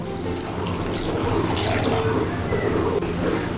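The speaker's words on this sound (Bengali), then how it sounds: "এখন এর মধ্যে দিয়ে দিচ্ছি পরিমাণ মতন জল।" Water poured steadily into a pot of red lentils on the stove, a continuous close gushing splash that holds at an even level throughout, with no talking.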